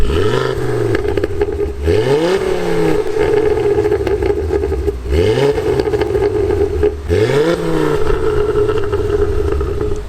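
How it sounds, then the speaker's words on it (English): A 1999 Seat Cupra Sport GTi hot hatch engine revs hard and close, rising and falling in repeated throttle blips over a steady loud idle, with no talk. "Can we just get everyone a little rev while we're here?"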